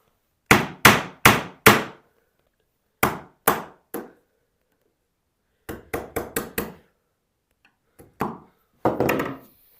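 A wooden mallet drives a chisel to chop out box joints in wood along a knife wall, about fifteen sharp, loud blows falling in quick clusters of two to five with short pauses between.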